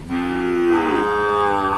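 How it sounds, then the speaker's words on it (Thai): A water buffalo at a Thai livestock market lets out a single loud, close, drawn-out low moo that rises and wavers in pitch. "อันนี้มาดูควายจากร้อยเอ็ดบ้างนะครับ ควายจากกาดร้อยเอ็ดมาขายที่นี่"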